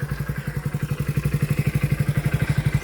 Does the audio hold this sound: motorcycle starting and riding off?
yes